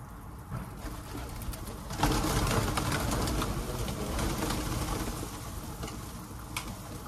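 Pigeons cooing in an outdoor spot where a runaway pigeon is being coaxed down to land, soft repeated coos over a steady rustling background, with a louder burst of noise about two seconds in.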